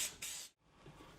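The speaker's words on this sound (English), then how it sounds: "I'm gonna use a commercial spray. This spray has flour built into it." Commercial flour-infused cooking spray hisses into baking pans in two close bursts, a short blast and then a longer one, followed by faint kitchen clatter.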